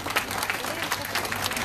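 An audience claps for Janet at the opening of a new naturism centre, a short burst of dense clapping that stays even throughout, with possible voices blended in.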